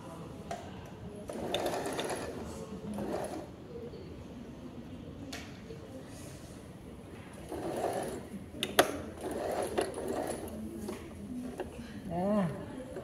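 A sewing machine stitching fabric in a sewing class runs in short bursts of whirring mechanical stitching, close and moderately loud, with pauses between runs. People talk over parts of it.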